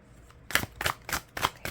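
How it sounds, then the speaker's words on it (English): A deck of tarot cards being shuffled by hand, several quick riffling bursts in a steady rhythm, close and crisp with short pauses between. "so I'm just shuffling the deck right now."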